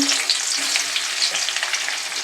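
Onions sizzling loudly and steadily in a little leftover oil from frying crispy onions, close up, with light stirring crackles and no voices.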